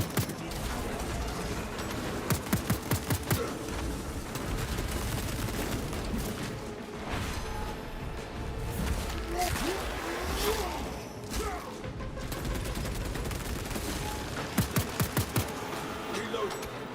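Rapid bursts of gunfire in the video game Space Marine 2, in short salvos near the start and the end that stand out over a busy, muffled combat background.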